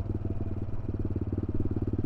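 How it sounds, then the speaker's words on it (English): The exhaust of a CCM Spitfire Scrambler motorcycle throbs nearby in a fast, even, pulsing beat, heard alone for about two seconds. "I can hear them exhausts."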